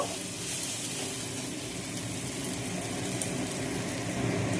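Spiced chicken and pea ghugni sautéing in a pan with ground coriander, turmeric and Kashmiri chilli, giving a steady, close, dense sizzle that holds evenly throughout with no voices.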